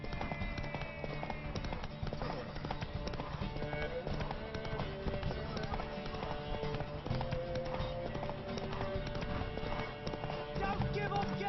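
Horse hooves galloping during a race in The Witcher 3, a fast continuous clatter of hoofbeats mixed with game music and a voice speaking over it, fairly quiet overall.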